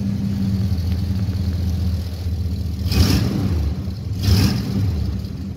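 1987 Oldsmobile Cutlass Supreme with Flowmaster exhaust and about 143,000 miles, rumbling at a steady idle close by, with two short throttle blips rising and falling in its deep exhaust note.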